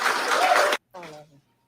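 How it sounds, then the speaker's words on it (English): A brief, loud burst of audience clapping at a township meeting stops abruptly, and a voice speaks soon after. "Ladies and gentlemen, give a round of applause for our township."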